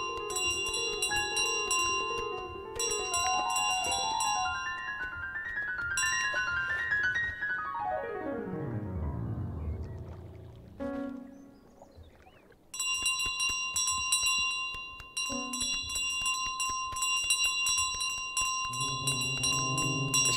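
Repeated bright bell rings from Untitled Goose Game, bursts of cheerful chimes recurring throughout over playful game music, loud and close, with a brief quieter dip midway.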